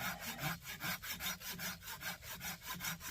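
Steady back-and-forth strokes of a hand pruning saw cutting through wood on a camp or pack saw comparison, about a dozen even, rhythmic rasping pulls, close and clear with no talking.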